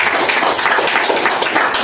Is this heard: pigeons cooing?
no